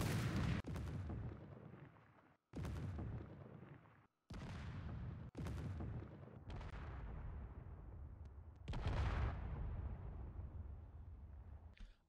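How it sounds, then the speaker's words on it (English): In Space Engineers, an explosion goes off as a series of heavy, booming blasts, each a loud broadband burst that decays into rumble, separated by brief silences, with no talking. "I'm going to go set off the explosion"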